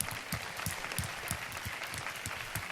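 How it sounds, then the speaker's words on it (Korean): A Korean church congregation claps in unison during a worship service, with rhythmic, even beats that repeat steadily and sound moderately loud. "주님 앞에 우리 영광의 박수 올려드리겠습니다"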